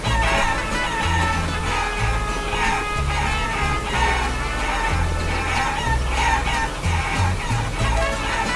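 Chickens cluck and a rooster crows in the video game Guacamelee, with repeated bird calls over a dense, steady game soundtrack, loud and continuous throughout.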